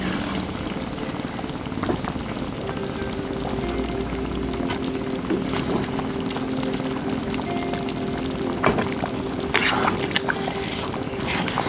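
Beef haleem stirred in a cooking pot gives a steady, close wet bubbling and scraping texture that runs the whole time, with faint occasional clinks over a constant low simmer.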